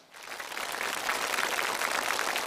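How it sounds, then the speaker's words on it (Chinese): A studio audience on a television variety show breaks into applause, quickly swelling from quiet into a dense, sustained clapping that holds steady to the end. "掌声很热烈。"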